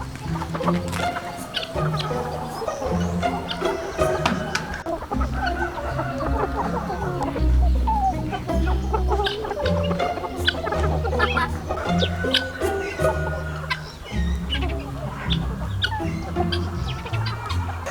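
Chickens cluck steadily and close by, a busy flock with overlapping clucks and occasional louder squawks, with no talking.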